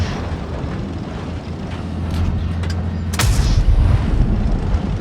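Tank cannon firing in World of Tanks Blitz, an E50 M shot landing as a deep boom over steady engine rumble that swells after the blast, with no voices.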